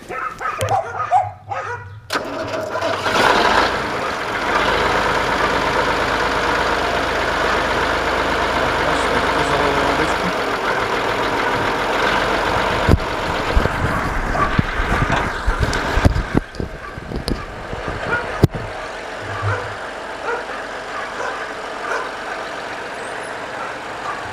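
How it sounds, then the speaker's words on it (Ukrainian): A heavy diesel engine of a KhTZ-17221 tractor after a major overhaul cranks, catches and settles into a loud rumbling idle, with bursts of revving and clattering knocks along the way. "Можете зняти навіть трактор, зараз заведу"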